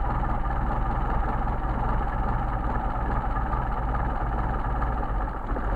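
A Mercedes 190SL engine with Solex carburetors idles roughly, a steady low mechanical thrum with a faintly uneven pulse, close and moderate in level, running alone without talk.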